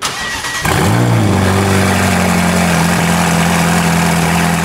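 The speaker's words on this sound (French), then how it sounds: "on va vous montrer le bruit de certaines de ces voitures" A supercar engine cranks and fires up after a brief quiet moment, then settles into a loud, steady idle close by.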